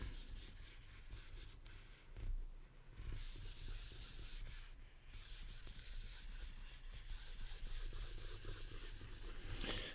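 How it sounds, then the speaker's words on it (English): An eraser scrubs a board clear during an organic chemistry lecture, a steady rough rubbing that runs continuously for about ten seconds with short pauses between strokes and no talking. "I'm going to erase all of this and then keep going with our reaction"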